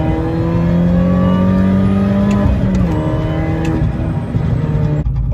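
A car's supercharger whines loudly with the cabin filter removed, alongside steady engine drone. The pitch holds, then shifts slightly midway, with no talking.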